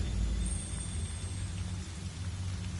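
Steady rain in the video game Project Zero: Maiden of Black Water hisses and patters continuously, with a low rumbling undertone throughout and a faint high tone drifting over it.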